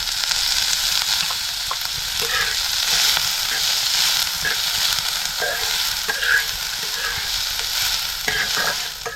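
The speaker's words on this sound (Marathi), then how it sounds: "थोडंसं तेल वतून आपल्याला हा कांदा चांगला भाजून घ्यायचा." Onion frying in oil in a pan, a loud continuous sizzle close by with scattered spatula scrapes and clicks as it is stirred, no talking.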